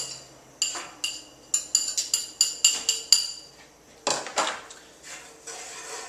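Basil is stirred into garlic in a pan for vodka sauce: a close run of crisp metallic clinks and taps as the utensil strikes the pan, a short pause, then a few more knocks and scrapes.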